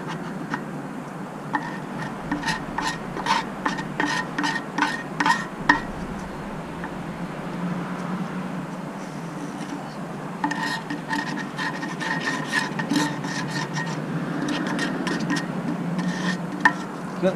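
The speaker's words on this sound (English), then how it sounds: "See, we've still got a layer of gunk around here. Just scrape that off as well." Scraping of a blade across a car's air filter housing to clear off a layer of gunk, heard as close, repeated rasping strokes in bursts with a pause in the middle.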